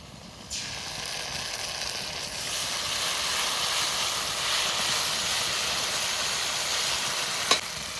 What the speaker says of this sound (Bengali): এবার জিরে ধনে বাটা দিয়ে দেবো।